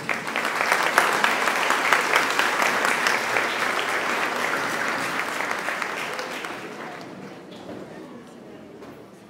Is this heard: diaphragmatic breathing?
no